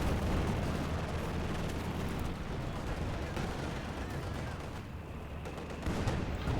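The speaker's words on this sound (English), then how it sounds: "More delayed mortar bombs" Delayed mortar bombs bursting in the World War II strategy game Company of Heroes 2, a dense, continuous rumble of explosions and gunfire throughout, loud and unbroken, with brief swells toward the end.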